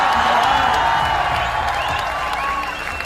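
Crowd at a political rally breaking into sustained applause and cheering, dense clapping with scattered whoops filling the space at a steady level, fading slightly toward the end.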